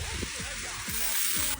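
Green beans sizzle in hot soybean oil in a wok, a loud steady hiss filling the short clip with a few soft stirring knocks underneath.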